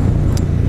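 A red car on the road accelerates, its engine a steady, close, low rumble that stays unbroken for a brief moment.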